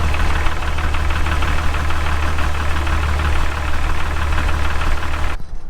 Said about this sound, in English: depending on how bad that ticking is, it could be something else. It could not be just lifters or rockers